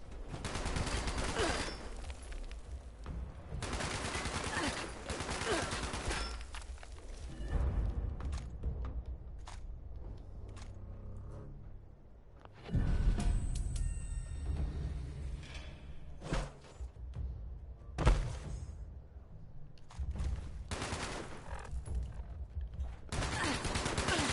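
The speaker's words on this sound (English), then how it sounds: "How are you firing at me from inside the cell?" A legendary boss enemy in the Fallout 76 video game fires from inside a cell, loud sustained bursts of automatic gunfire broken by short pauses and heavy thuds, with no voices.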